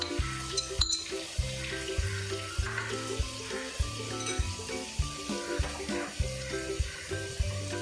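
Ginger and garlic sizzle and crackle in hot oil in steady repeating bursts, with some clinking and scraping nearby and no talking.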